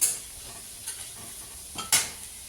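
Soft, even frying hiss from oil in a pan, broken by a couple of brief louder bursts of crackle and spatter.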